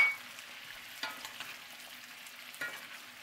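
Salmon fillet sizzling in a frying pan with lemon juice and garlic while being basted, a soft steady fry punctuated by a few spoon scrapes and splashes.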